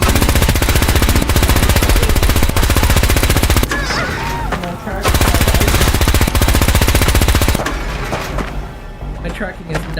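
A Gatling laser in a modded video game fires loud, rapid, continuous bursts, broken by a short pause and a quieter stretch, with the fire filling most of the clip.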